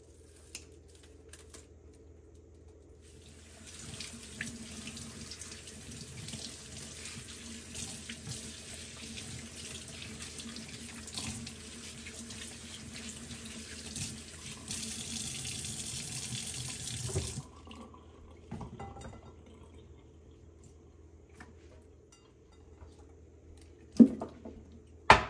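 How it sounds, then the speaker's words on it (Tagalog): A kitchen sink faucet runs steadily as asparagus is washed under it, a continuous close splashing stream with light handling noises, which stops abruptly partway through, followed by a few soft clunks. "Sunod kong hugasan itong asparagus."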